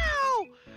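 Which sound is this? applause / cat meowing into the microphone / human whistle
cat meowing into the microphone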